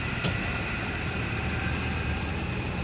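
A 1985 Hardinge HLV-H super precision tool room lathe spindle running at 600 RPM in high range, a steady even hiss and hum with a faint constant tone, close and unvarying.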